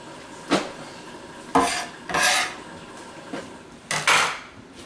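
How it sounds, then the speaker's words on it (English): A metal bench scraper scrapes across a cutting board in a kitchen while clearing away asparagus trimmings, giving several short, loud rasping scrapes with gaps between them and no talking. "We're going to clean our cutting board. A bench scraper works really well for this."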